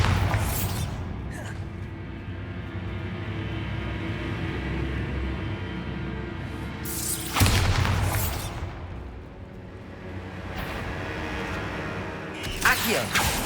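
Explosion effects from the Bombarda spell in Hogwarts Legacy, with several loud bursts spaced several seconds apart over continuous game sound and rumbling.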